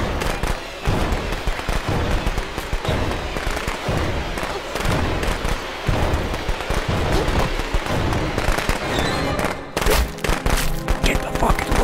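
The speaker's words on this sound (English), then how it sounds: "Your fucking fireworks are a bit too late." Fireworks going off in the video game Friday the 13th: a dense run of sharp crackling pops and bangs in rapid, uneven succession, loud and close, with a short break near the end.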